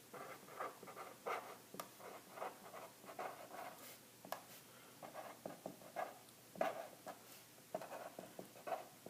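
A pen or pencil writes notes by hand on paper in short, quiet scratching bursts separated by brief pauses. The strokes are close and soft, and no one speaks.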